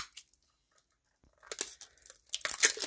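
Gift-wrapped package from a subscription gift box being opened, with crinkly tearing and rustling paper bursts after a quiet start, close and moderately loud.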